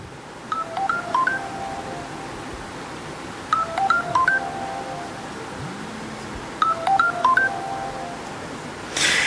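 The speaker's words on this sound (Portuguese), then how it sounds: "eu esqueci de ligar aqui o celular, mas estou fazendo agora" Three bursts of mobile phone keypad dialing tones, each a quick run of distinct beeps, spaced evenly across a quiet background during an opening speech at a LAC-ISP 2023 event.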